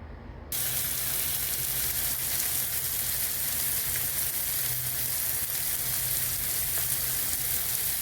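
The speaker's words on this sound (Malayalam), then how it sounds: "നമ്മളിപ്പോൾ ഇത് വറുത്തെടുക്കാൻ പോവാം" Alfaham chicken frying in coconut oil bursts into a loud, even sizzle after a brief quiet start, then holds a dense, crackling hiss to the end with no speech.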